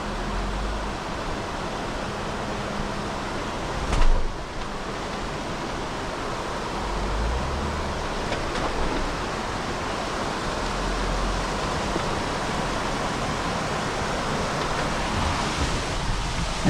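Rushing water from a waterfall beside a rocky jeep trail over Imogene Pass in Colorado, a constant broadband roar at moderate level, with a brief thump partway through.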